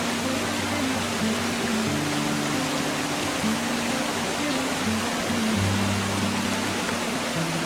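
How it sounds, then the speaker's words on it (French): Steady broadband roar of the 35-metre Saut-Girard waterfall on the Hérisson in autumn, a continuous dense rushing wash of falling water with no pauses, heard close and loud throughout. "Nous arrivons à la cascade du Saut-Girard, d'une hauteur de 35 mètres."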